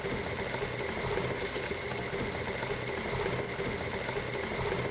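An electric mixer turns at low speed as chocolate chips are mixed into cookie dough, giving a steady motor whir with a faint rhythmic churning, close and continuous, with no talking.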